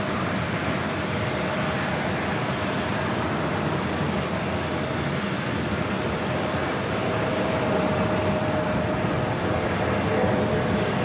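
A CRJ regional jet rolls down runway 4 Left at JFK for takeoff, a steady broad roar of engines and rushing air that holds even and swells slightly near the end, with no voices over it.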